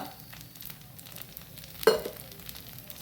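A purple jamun fruit dosa sizzles quietly on a hot pan, a soft steady crackle with one brief, sharper hiss burst midway.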